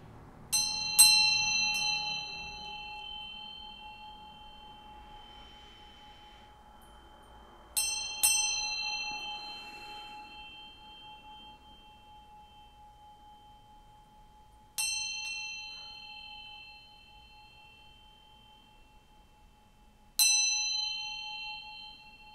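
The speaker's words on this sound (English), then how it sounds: "I'm going to ring this bell to bring in some good vibes" A small bell is rung four times at spaced intervals, each strike bright and close, leaving a long, slowly fading ringing tone in an otherwise quiet room.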